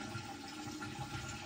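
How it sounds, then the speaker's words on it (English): A toilet is flushed during limescale cleaning, giving a steady rush of swirling water that runs evenly through the short moment, close by, with no voices. "I need to flush this again just to get rid of this."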